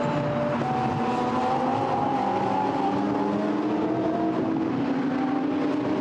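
Lamborghini Super Trofeo race cars at the Nürburgring brake for a right-hand turn, engines droning loudly and continuously with falling and shifting pitch as they slow and turn in, close by and heard alone.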